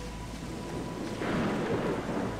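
Thunderstorm in the horror game Pineview Drive: a rolling rumble of thunder swelling over continuous rain, moderately loud, with no one talking.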